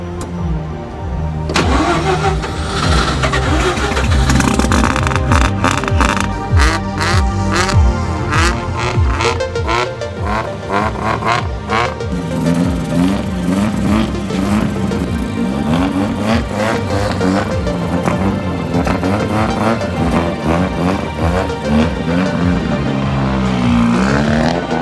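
A fake Lamborghini replica car starts up and drives into an event, its engine loud and close, running continuously with revving swells and mechanical clatter throughout.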